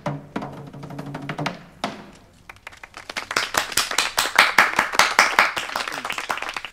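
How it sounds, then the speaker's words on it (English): Hand clapping from a small group, starting after a short pause and then building into dense, steady applause that keeps time with a cheering crowd in the film Before Sunrise (1995). "My clapping was in sync with everyone in the movie's clapping."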